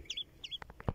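A young siskin, freshly caught in a net, gives a few high chirps close by, followed by several short clucking or fluttering knocks near the end.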